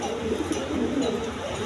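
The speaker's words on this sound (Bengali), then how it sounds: "এইখানে বিউটি কবুতর, জার্মান বিউটি কবুতর।" German Beauty pigeons at a farm give low, soft cooing that carries steadily beneath a busy background of other birds, close and continuous with no clear pauses.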